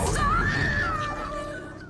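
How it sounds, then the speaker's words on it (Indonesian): A woman screams hysterically in a vampire drama scene, a loud sustained wavering high-pitched cry that slowly fades. "diiringi dengan teriakan histeris Claire"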